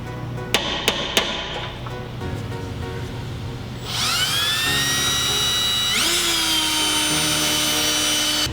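A drill bores pilot holes for rivet nuts in a battery box on a Honda CRX. A few sharp taps come first, then a loud, steady, high-pitched whine that surges again partway through.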